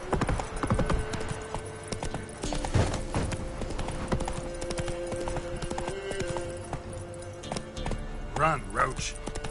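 Galloping hooves of the horse Roach in the video game Witcher III, a steady clip-clop rhythm running under game music and ambience, with voices and a brief whinny-like cry near the end.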